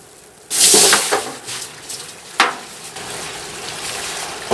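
Maple sap pours into evaporator pans in Maryland, a sudden loud rushing splash that settles into a steady running-liquid hiss, with a sharp clank partway through.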